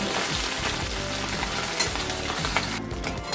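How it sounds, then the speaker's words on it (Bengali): Fish frying red in hot oil in a pan: a steady, close crackling sizzle fills the whole stretch, with a couple of sharper pops and spatters near the end and no talking. "মাছগুলো আমরা এবার এই তেলের উপর লাল লাল করে ভেজে নেব।"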